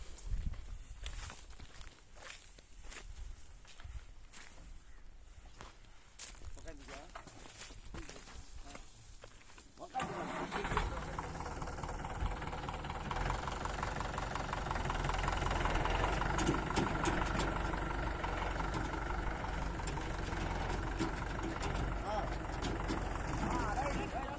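A Mahindra 595 DI Turbo tractor hauling a loaded trolley in a cornfield, its engine rumble rising to a steady, closer drone after a quieter start, with people talking over it.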